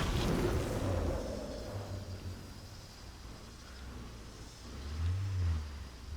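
A car engine in State of Decay 2 rumbles low while the vehicle is parked, loud at first, easing to a quieter idle, then swelling briefly again with a revving hum near the end, with no one talking.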